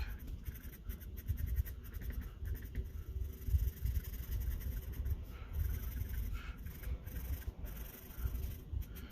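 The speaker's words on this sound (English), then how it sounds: "Use your pencil to blend." A pencil shades and blends on paper in a value study, a soft, steady scratchy rubbing in quick back-and-forth strokes, close and fairly quiet, sped up, with no talking.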